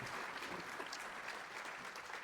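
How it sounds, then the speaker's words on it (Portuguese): An audience at an innovation ecosystem kickoff event applauds steadily, the clapping faint and distant and lasting a couple of seconds. "uma salva de palmas para os dois"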